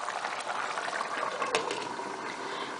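Chicken stew simmers under a plain lid in a saucepan, a continuous bubbling boil with small pops, close and steady throughout with no talk.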